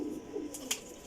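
Pigeons cooing faintly in a loft of fancy breeding birds, a soft low murmur with a brief sharper chirp, quiet and close.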